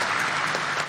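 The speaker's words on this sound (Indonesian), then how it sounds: "Tepuk tangan dulu ya." Brief applause from an audience at a university gathering, a short dense wash of clapping lasting under a second.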